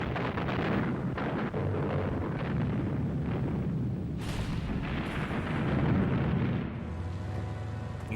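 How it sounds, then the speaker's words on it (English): A huge Soviet artillery bombardment strikes German troops on July 5th, 1943, as a loud, continuous rumbling barrage of overlapping booms and blasts, dense and unbroken throughout. "they were hit by a huge Soviet artillery bombardment"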